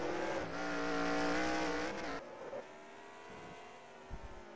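Late-model stock car revving loudly at the Battle at the Beach 100 race as the winning No. 62 spins donuts on track, engine roar swelling then cutting back to a lower idle with faint tire noise.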